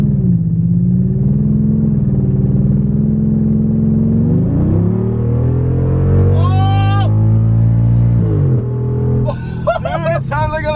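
A cheap V10 car engine with a misfire revs up and down close by, with a loud, rough, wavering drone. Voices shout excitedly near the end.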